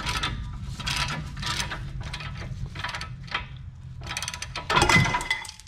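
A wrench ratchets a nut loose in close, quick bursts of rapid clicking separated by short pauses, ending with a louder clunk.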